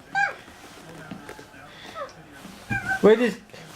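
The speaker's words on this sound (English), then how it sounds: "Kitten on your bed." A kitten gives a few short, high meows, one near the start and a louder cluster near the end, with a voice speaking softly in between.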